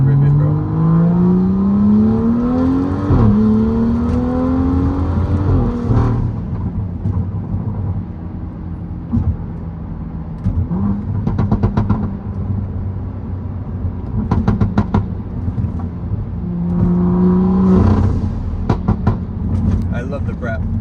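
A BMW M4 F82 engine revs hard under acceleration, rising pitches climbing in repeated pulls through gears, close and loud, with short bursts of talk in between and a final surge near the end.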